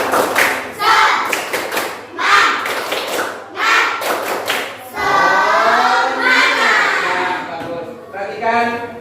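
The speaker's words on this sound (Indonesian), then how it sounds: "kita tepuk semangat dulu. Yuk, tepuk semangat" A classroom group performs a rhythmic spirit clap, tepuk semangat, in bursts of sharp synchronized claps separated by short pauses, with voices chanting loudly between and over the claps.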